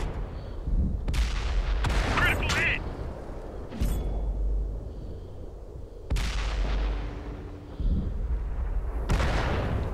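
A Sexton self-propelled artillery gun fires at a KV-1 tank in World of Tanks beta on Xbox One: several loud, booming shots at irregular intervals over a steady low engine rumble, with battle noise between rounds.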